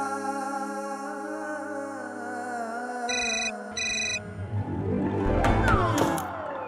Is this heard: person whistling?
no